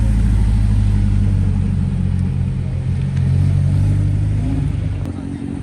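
A Subaru with gold-brown wheels rolls in at a car meet, its engine rumbling loud and close in a steady low drone that eases slightly toward the end.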